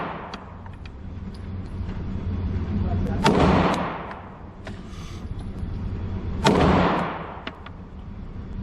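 Two sharp Glock pistol shots fired with factory sights at a shooting range, loud and close, spaced a few seconds apart, each followed by a brief echoing decay over a low background rumble.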